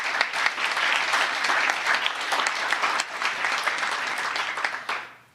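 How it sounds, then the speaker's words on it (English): A large crowd at a pro-life celebration applauds with dense, sustained clapping for several seconds, heard up close before it quickly fades out at the end. "Give yourselves a round of applause"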